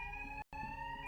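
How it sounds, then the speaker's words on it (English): An alarm rings upstairs in The Slater video game, a steady high electronic tone with a bright overtone, loud and continuous apart from one brief cut. "So this will trigger the alarm upstairs, which will make these guards go away."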